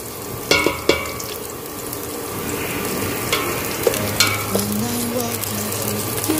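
Onions sauté in a pan on a fast-heating electric cooker for sinampalukang manok. A loud, continuous sizzle runs throughout, with occasional clinks and scrapes from a stirring utensil. No one speaks.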